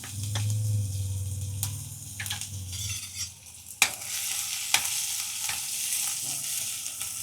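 Curry leaves, asafoetida and ginger-garlic paste sizzle in hot oil, with a soft, steady crackle, a few sharp spatters and pops, and light stirring scrapes close by.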